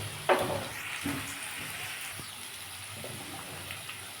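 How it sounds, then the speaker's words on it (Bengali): Potatoes frying in oil in a pan with cumin and chili powder added give a steady, moderate sizzle with a few brief stirring knocks and scrapes near the start. "আমি এর মধ্যে একটু জিরে চামচ হাফ চামচ লঙ্কার গুঁড়ো"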